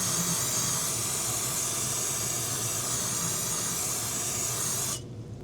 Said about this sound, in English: Going to rinse it down with some brake parts cleaner to ensure that there are no oils on there.